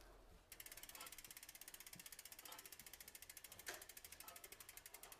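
A bent hydraulic disc brake rotor on an eBike rubbing the pads as the wheel spins, a rapid rhythmic ticking scrape repeating many times per second with a few louder rubs, quiet and close.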